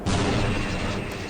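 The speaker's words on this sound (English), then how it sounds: "The sound of the explosion will alert the other two turrets" A grenade blows up a turret in Half-Life, a loud, close blast that hits at once and then rolls on as a broad rumbling roar.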